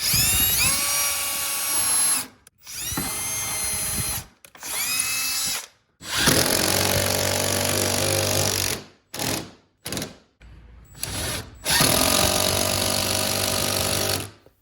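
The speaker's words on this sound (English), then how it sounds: "we're going to drill 2 pilot holes with a 5/16 drill bit" A power drill with a 5/16-inch bit drills pilot holes for a garage door opener, whining in several bursts of a few seconds each, separated by short pauses, loud and close, with a steady grinding tone.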